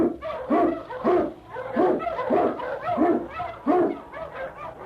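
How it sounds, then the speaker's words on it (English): A husky sled dog barks repeatedly in a steady rhythm, about seven sharp barks at moderate distance, with no talk over them. "Husky! King, the swiftest, strongest of Eskimo lead dogs, blazes the trail through storm and snow for Sergeant Preston"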